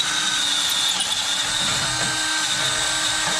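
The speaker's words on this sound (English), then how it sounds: "we're having to drill the sway bar out half an inch in order to fit the Synergy sway bar end links." A power drill bores out a steel sway bar end by half an inch to fit Synergy sway bar end links, a steady high-pitched whine with grinding bite running continuously and loud throughout, no voices.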